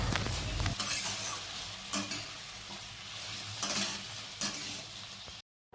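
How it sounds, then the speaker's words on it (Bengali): Green banana and mixed vegetables fry in a pan for a Bengali shukto, giving a continuous sizzle broken by several sharp scrapes and clinks of stirring; no talking. "একদিকে তো আমাদের সবজি ভাজা চলছেই"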